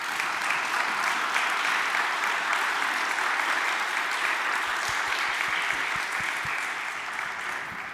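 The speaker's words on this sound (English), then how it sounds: "Can we have a little round of applause and appreciation for our panel?" An audience at an opening plenary session applauds a panel, a dense, steady wash of clapping that carries on throughout without pause.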